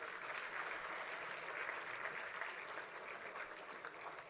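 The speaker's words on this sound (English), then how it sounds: "Parents, please applaud for our students today." Parents at a business school convocation ceremony applaud the graduating students, a soft, even, sustained clapping from a distant crowd filling the hall without a break.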